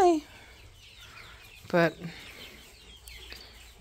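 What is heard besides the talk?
chickens clucking in a coop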